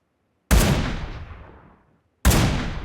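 Two booming AMR sniper rifle shots ring out in a video game, each a sudden loud blast followed by a long fading tail, spaced well apart with no talk.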